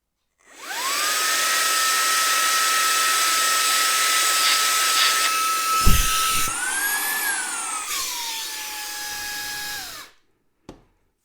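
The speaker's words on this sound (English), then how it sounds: "And now let's see how the HOTO air canister does." A HOTO compressed air capsule blows at a fan from about 3 inches away. A loud, steady motorised whine spins up, runs for roughly nine seconds with a brief pitch rise partway through, then winds down and stops, ending with a small click.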